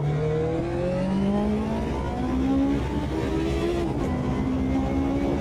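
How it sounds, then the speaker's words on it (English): Nissan C9 Group C prototype race car in a Le Mans racing game mod, its engine droning steadily with rising and falling rev tones through gear changes, loud and continuous with no talking. "This car is very nice, and it has quite a nice noise."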